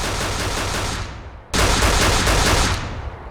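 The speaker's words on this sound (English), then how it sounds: "The Handmade Revolver is a new gun." Handmade Revolver gunfire in the Roblox game Lost, loud and close: two dense bursts of rapid shots, one after the other, with no voices.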